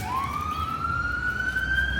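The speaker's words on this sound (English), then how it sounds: "There's an ambulance" An ambulance siren with a steadily rising wail, fairly close and loud, carrying over low road rumble from passing traffic near a 2005 Mazda 6 MPS.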